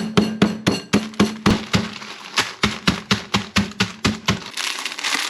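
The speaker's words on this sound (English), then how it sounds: "So I take a sleeve of Ritz cracker and a hammer," A hammer pounds a sleeve of Ritz crackers into crumbs with about fifteen sharp, evenly spaced blows, loud and close, ending in a short rustle.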